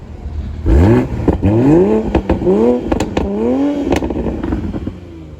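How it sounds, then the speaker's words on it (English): A Toyota Supra A90 engine revved up from warm idle, one sharp rising roar followed by a series of repeated blips and falls, loud and close with crackles between revs. "Go ahead and give it a rev."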